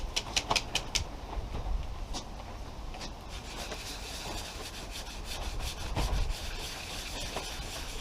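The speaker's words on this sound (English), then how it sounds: "You've got to constantly flip it and move it because the sandpaper gets clogged." Sandpaper rubbed by hand over the body of a Mk3 Ford Cortina estate, a steady rasping scrape with sharper strokes and brief pauses, close and moderately loud with no talking.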